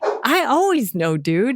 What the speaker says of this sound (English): That's my dog. She would like to participate as well.